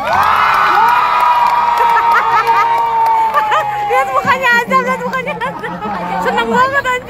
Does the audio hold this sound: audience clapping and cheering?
yes